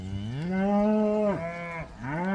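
A cow moos close by, one long drawn-out low call that bends in pitch and then breaks into a second shorter moo, with no talk over it.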